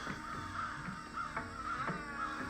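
Crows cawing repeatedly in Karachi, several harsh calls spaced through the clip over steady city background noise, loud and fairly close, with no talk.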